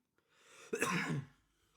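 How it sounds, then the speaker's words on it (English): A single harsh cough up close, preceded by a short inhale and trailing off into quiet. "ooh, this familiar cough is coming."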